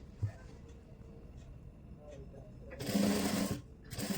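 Sewing machine stitching saree pleats onto a buckram strip, two short bursts of rapid mechanical whirring and clatter close by, preceded by quiet handling and someone speaking softly.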